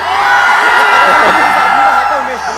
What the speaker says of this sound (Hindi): लड़कों के लिए कौन चिल्लाएगा?